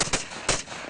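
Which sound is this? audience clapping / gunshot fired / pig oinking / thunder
gunshot fired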